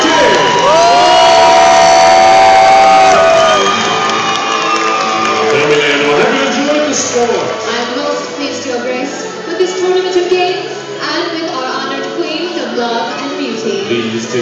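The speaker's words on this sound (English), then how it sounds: "My lords, my ladies, raise a cheer for our queens of love and beauty!" A large dinner-show audience at a medieval tournament erupts in loud cheering, shouting and whooping for the queens of love and beauty, peaking early and then tapering into a sustained crowd roar with scattered shouts.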